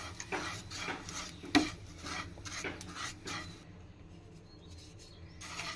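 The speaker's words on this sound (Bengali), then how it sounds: "এখন আমি এর ভিতরে লাচ্চা সিমারে দিয়ে দিচ্ছি দিয়ে খুব ভালোভাবে কিন্তু একটু ভেজে দিতে হবে সব কিছু" Lachha semai being fried in a pan with almonds, cashews and raisins for burfi, with scraping and stirring rasps from a utensil against the pan, a sharp clink near the middle, then quieter frying.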